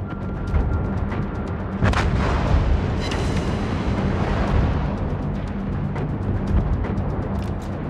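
Warship guns firing in World of Warships during a Musashi battle, heavy booming salvos layered over a dense constant roar of battle noise, loud and sustained.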